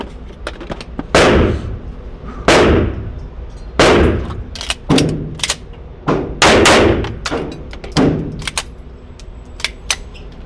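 Open-class pistol with a large charging handle fired in a USPSA draw drill: sharp, loud single shots spaced about a second apart, with a few quick doubles, ringing out alone without talk.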